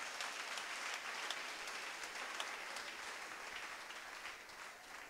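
A church congregation applauds for Jesus, a continuous, faint and distant patter of many hands clapping, with no voices standing out.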